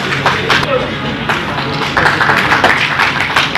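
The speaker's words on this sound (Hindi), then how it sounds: "जोरदार तालियां हो जाए एक बार के लिए।" Loud, dense applause from a crowd at a memorial blood donation camp, sustained and even throughout with scattered sharper claps, a voice faintly mixed in.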